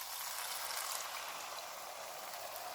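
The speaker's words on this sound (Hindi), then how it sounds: "इसमें 1 कप दूध डालेंगे" A cup of milk poured into a hot pan of egg malai masala on a lowered stove sets off a loud, steady hissing sizzle that fades only slightly, with no talking.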